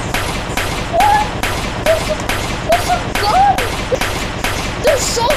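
Repeated bursts of gunfire from soldiers in a World War One video game, rapid rhythmic volleys with whistling and ricochet-like tones over a busy battle bed.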